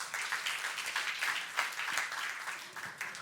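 A church youth congregation applauds during a sermon, a steady, dense wash of many hands clapping together for a few seconds, moderately loud and evenly sustained with no voice on top.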